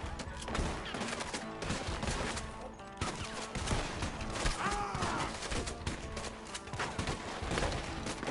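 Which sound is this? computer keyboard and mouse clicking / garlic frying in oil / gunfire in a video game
gunfire in a video game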